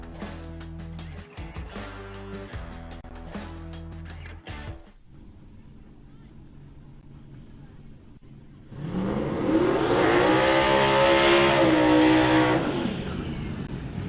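A 2000 Chevy Camaro race car with a turbocharged LS engine roars loudly at a drag strip, its exhaust swelling into a sustained, intense burnout after a calmer idle stretch, with an announcer's voice over it.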